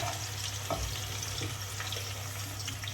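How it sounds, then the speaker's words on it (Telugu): Onions frying in a kadai for veg biryani, a steady close sizzle with low hum underneath and a few faint clinks of stirring. "సౌమ్య ఈరోజు వెజ్ బిర్యానీకి ఆనియన్స్ ఫ్రై చేసుకుంటున్నాం"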